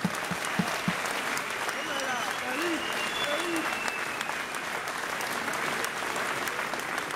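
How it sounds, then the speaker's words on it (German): Sustained applause from an audience at a boxing event in Niesky, steady clapping and some crowd noise filling the whole stretch, with voices mixed in. "Bitte noch einmal einen großen Applaus an Saul und Michael."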